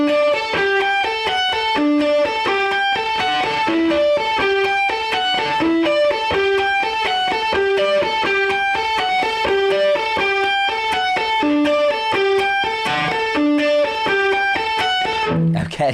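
Distorted electric guitar plays a main riff, a bright, steady, repeating pattern of rapid picked notes over about sixteen seconds, loud and close with no voices.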